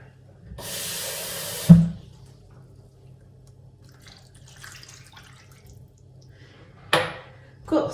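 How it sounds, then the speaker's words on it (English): Water splashed into a pan of marinated pork, a short bright pour followed by a sharp clatter, with a second brief splash and clink near the end, close and moderately loud over a quiet kitchen. "And a splash of water."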